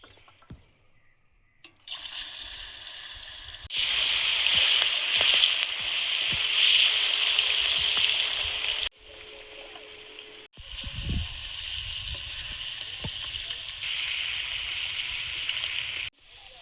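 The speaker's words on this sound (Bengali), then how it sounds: "মাছগুলো ভেজে নেব, লবণ হলুদ মিশিয়ে নিয়েছি।" Loud crackling sizzle of a large fish, about 2 kg, cut in pieces and coated with salt and turmeric, frying in hot oil, starting after a quiet moment, surging louder then settling into a steady spitting hiss.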